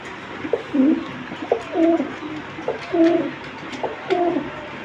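A military pigeon pair nearby cooing in repeated soft, low, rolling calls, about four bursts spaced across a few seconds, with no talking.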